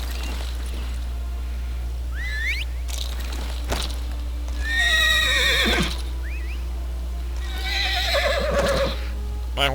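A horse in the video game Elder Scrolls Online gives several loud whinnies, each one a shrill, wavering neigh. Short snorts and clip-clop sounds fall between them over a steady low hum.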